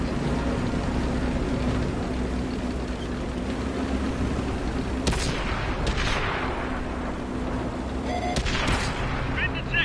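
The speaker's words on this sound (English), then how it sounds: "some spicy shots there" Tanks trade fire in the World of Tanks video game: booming cannon shots and bursts of gunfire ring out over a constant engine drone, with several sharper reports near the end.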